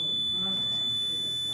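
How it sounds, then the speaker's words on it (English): Gas leak warning alarm buzzer sounding with a ventilation system running, a steady high-pitched electronic tone held continuously over a low rumbling fan hum. "as the density increases, the ventilation system and alarm runs"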